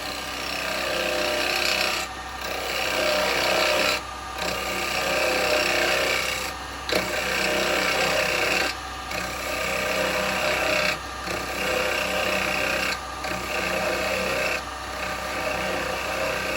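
Lathe turning tool taking slicing cuts into a yew wood vase, a steady close rasping hiss that runs continuously, with brief dips roughly every two seconds as the cut is lifted and restarted.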